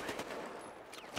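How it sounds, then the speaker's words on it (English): Gunfire in the video game Battlefield Hardline crackles in a rapid, dense burst of sharp reports under a noisy battle backdrop, with a louder shot standing out near the end. "Oh, there's this gunfire coming."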